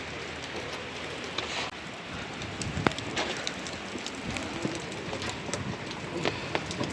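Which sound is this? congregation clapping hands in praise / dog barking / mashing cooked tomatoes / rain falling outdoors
rain falling outdoors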